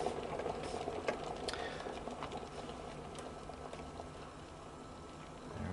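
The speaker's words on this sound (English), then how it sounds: "if I turn it, you can hear it's boiling again" Water boiling, heard as a faint, steady crackle and patter of bubbles with scattered small pops, continuous and unbroken with no talking.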